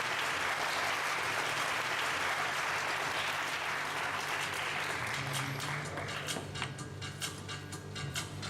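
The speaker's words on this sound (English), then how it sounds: "A round of applause for Sasha's cappuccino set." Audience applause at a barista championship after a cappuccino set is served: sustained loud clapping from a crowd, growing more scattered with sharp individual claps toward the end.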